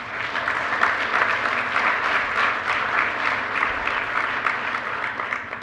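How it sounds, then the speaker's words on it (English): An audience at a network operators' conference gives a steady, full round of applause honoring community service, continuous and fairly loud from start to finish. "I'd like everyone to kind of give a round of applause for their service to our community."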